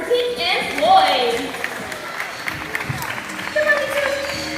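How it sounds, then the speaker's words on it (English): Audience applause at a live bird show: scattered clapping and crowd noise run under a presenter talking, with a voice and a few bright bird-like whistles cutting through. "let's get a round of applause for Pink and Floyd"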